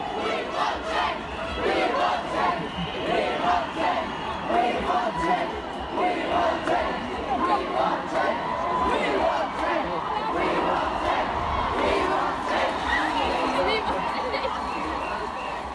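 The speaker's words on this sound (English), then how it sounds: "People with fluorescent face paint and improvised placards crowded the area, rehearsing chants and slogans about the seas and the oceans, fish and animals." A dense protest crowd of people with painted faces and placards chants and shouts slogans together, a loud, continuous rhythmic roar of many voices filling the area.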